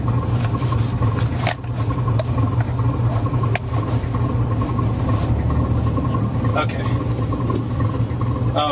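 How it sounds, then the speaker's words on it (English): Passing road traffic with car engines humming and idling in a continuous low drone, with a few sharp knocks, while people talk over it. "Now we got traffic."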